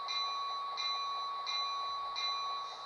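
Bell of an HO scale Rapido Amtrak F40PH model locomotive, a bright electronic ding repeating steadily about four times, clear and alone.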